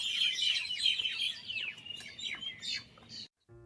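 Birds chirp outdoors in cool weather, a lively run of overlapping high tweets and short trills that stops abruptly just before the end.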